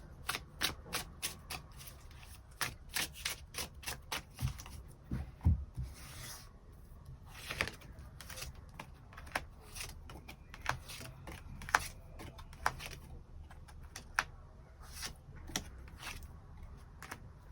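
Tarot cards are shuffled and drawn close by, making a steady run of sharp riffling flicks and soft papery slides, then sparser taps and snaps as individual cards are pulled and placed, with no voices.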